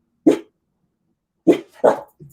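An upset house dog barks sharply at someone, three short, punchy woofs spaced out with a quiet gap after the first, close and fairly loud, ending in a soft huff.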